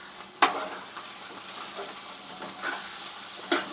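Scrambled eggs fry in a pan with a steady sizzle, and two sharp scraping stir strokes stand out against it, one near the start and one near the end.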